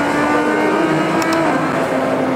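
A loud, continuous car engine from a racing video game played on a DIY open-source force feedback wheel, holding a steady high drone that rises slightly in pitch, with no talk.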